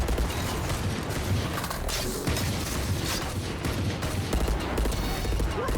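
Rapid gunfire in Counter-Strike at a defended choke point, a dense, continuous fusillade of overlapping shots with mechanical clatter, moderately loud throughout.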